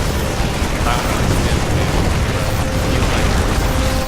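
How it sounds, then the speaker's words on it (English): Terran units opening fire on an enemy base in StarCraft 2, a steady, dense wash of continuous battle noise with rapid weapon bursts and mechanical clatter, loud throughout with no pauses. "So I'm going to open fire on the base again"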